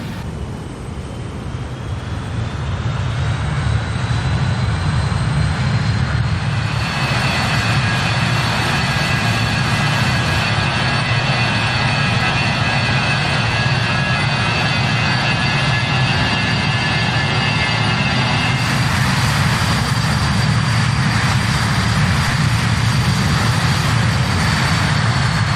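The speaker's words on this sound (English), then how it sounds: "we'll go for our first flyby here at RAF Fairford" BAe 146 jet airliner in a VR flight simulator making a flyby at RAF Fairford, a loud, steady engine roar with high whining tones that holds for the whole stretch, with no talk.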